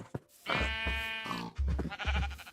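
Sheep in the Minecraft video game bleat several times in quick succession, close and clear, with short pauses between the calls.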